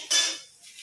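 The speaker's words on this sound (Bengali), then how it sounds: "আমার মা খুব জোরে জোরে খুন্তি নেড়ে নেড়ে নেড়ে শাক ভাজা করছে" A metal spatula scrapes once across a pan of frying greens, a brief clattering stroke up close followed by faint sizzling.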